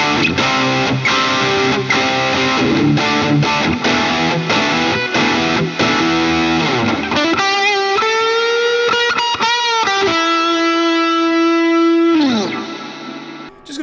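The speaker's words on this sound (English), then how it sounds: "we'll do full on distortion just to see what it sounds like." Heavily distorted electric guitar plays loud, saturated chords and sustained notes, ending with a long held note that cuts off abruptly.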